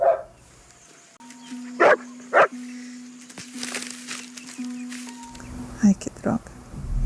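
A dog barks on the TV show LOST in several sharp, mid-distance barks spread across the stretch, with voices talking around them.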